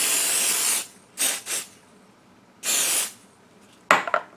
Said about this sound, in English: I'm going back to my Pixie Spray and I'm going to spray these areas